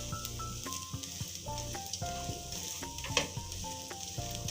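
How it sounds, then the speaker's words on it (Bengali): A vegetable and egg paratha fries in a pan with a soft, continuous sizzle and crackle, fairly quiet, under background music and without talking. "এই পাশটা আর একটু ভেজে নিচ্ছি।"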